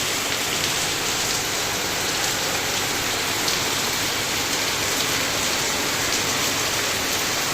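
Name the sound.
heavy rain falling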